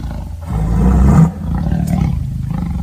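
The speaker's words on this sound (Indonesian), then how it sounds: "Singa mengaum kencang dan sangat marah atas saran dari kura-kura." A lion roars loudly and close, a deep, rough roar that swells for about a second, breaks off, then rumbles on more quietly, with no voices.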